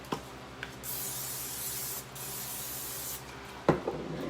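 Pam cooking spray hissing onto a waffle maker in a home kitchen while making sourdough waffles, two long steady bursts of close, loud spray with a brief pause between, followed by a short clatter.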